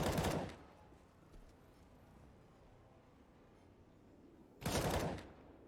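Two short, loud bursts of automatic gunfire in a Counter-Strike: Global Offensive match, one at the start and one near the end, with quieter ambient game noise between them.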